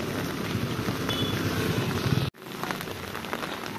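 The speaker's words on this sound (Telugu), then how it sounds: "సో నైట్ నుంచి నాన్ స్టాప్ వర్షం పడుతూనే ఉంది" Continuous heavy rain hissing and pattering nearby in Gokarna, with a sudden momentary gap partway through before it resumes.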